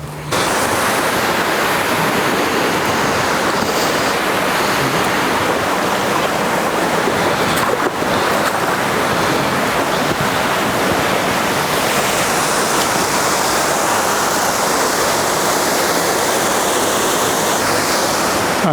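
A waterfall near a dipper nest pours in a loud, continuous broadband rush that stays steady throughout, heard up close with no voices.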